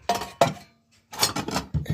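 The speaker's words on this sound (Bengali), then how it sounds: "এই যে হলো প্লেট" Plates and dishes clink sharply in a canteen in several close, loud bursts: two quick knocks, a short pause, then a longer clattering run of ceramic and metal.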